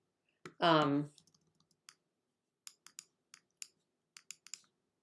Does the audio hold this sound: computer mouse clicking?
yes